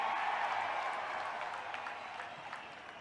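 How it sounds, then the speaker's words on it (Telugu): A large crowd claps steadily at an outdoor political rally, a dense, continuous wash of applause that slowly fades over a few seconds. "జరిగింది అంటే గట్టిగా చప్పట్లు కొట్టి జరిగింది అని చెప్పాలి."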